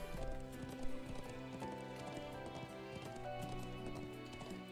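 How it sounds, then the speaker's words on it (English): Rhythmic horse hooves clip-clop steadily while riding a mount in the video game Trails of Cold Steel IV, layered over continuous background game music at moderate, even loudness. "he gives us the ability to ride on a horse"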